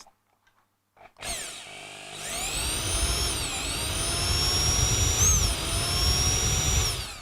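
A cheap electric drill, run in plain drill mode rather than hammer, whirs up after a brief silence and keeps spinning loudly and steadily with a rising whine that wavers slightly in pitch.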